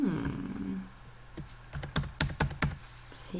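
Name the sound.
computer mouse double click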